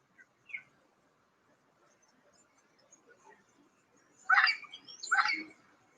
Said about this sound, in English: can you hear the parrots in my garden?